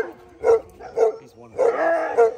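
Alaskan sled dogs bark and yip close by in short, eager bursts, with a dense run of overlapping calls near the end.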